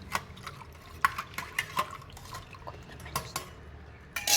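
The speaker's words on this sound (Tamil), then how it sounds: "திருப்பி எல்லாத்தையும் ஒண்ணா போட்டு நல்லா மிக்ஸ் பண்ணிக்கலாம்." Buttermilk and watermelon pieces stirred together in a bowl, with a scattering of sharp utensil clinks and taps against the container over a soft, wet background, no voices.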